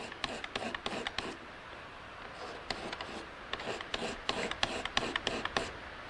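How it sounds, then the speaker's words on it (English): A razor blade laid flat is drawn across a painted car body surface, giving soft repeated rasping strokes in quick bursts with a brief pause in the middle, close and fairly quiet, with no speech. "I'm laying the razor blade on the surface flat"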